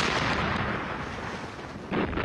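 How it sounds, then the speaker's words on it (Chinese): Dense German artillery fire on French positions in the 1940 Western campaign near Sedan, heard as a continuous rumbling barrage with a sharper blast near the end. "德军密集的炮火覆盖在法军阵地上"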